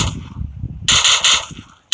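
Gunshots from a P92 pistol in PUBG Mobile: two loud, sharp back-to-back bursts at close range after a brief quiet stretch, then one more abrupt shot cut off at the very end.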